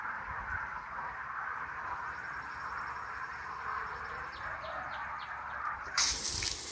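Water runs steadily from a tap into a spray bottle, a continuous close gush with a brief louder splash at the end.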